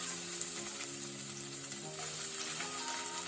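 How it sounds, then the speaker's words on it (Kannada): Crushed garlic, onion, green chilli and ginger frying on low to medium flame in a pan, a soft steady sizzle with light stirring clinks, brief and continuous. "ಸೊ ಇದನ್ನು ನಾವೀಗ ಲೋ ಟು ಮೀಡಿಯಂ ಫ್ಲೇಮ್ ಅಲ್ಲಿ ಫ್ರೈ ಮಾಡ್ಕೊಳ್ಬೇಕು"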